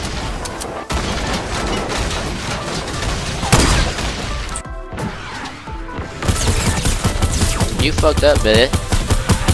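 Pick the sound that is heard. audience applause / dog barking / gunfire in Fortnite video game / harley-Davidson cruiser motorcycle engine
gunfire in Fortnite video game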